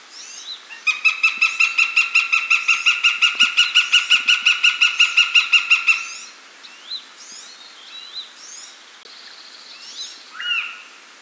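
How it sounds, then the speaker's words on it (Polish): A northern goshawk calls in a loud, rapid series of repeated harsh notes for several seconds, followed by scattered fainter calls from other birds. "na zakończenie głosy obu gatunków. Podobne, ale jednak się różnią. Najpierw jastrząb."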